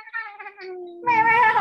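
A house cat yowls nearby, a drawn-out wavering complaint followed by a louder, harsher caterwaul, heard alone without talk.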